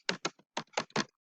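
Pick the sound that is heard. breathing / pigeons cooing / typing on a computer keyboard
typing on a computer keyboard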